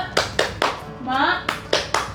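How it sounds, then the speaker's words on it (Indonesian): Schoolchildren in a primary-school classroom perform a rhythmic 'tepuk semangat' clap, sharp bursts of hand claps in a quick pattern interrupted by a short chanted vocal, close and lively. "Coba kita tepuk semangat sama-sama ya."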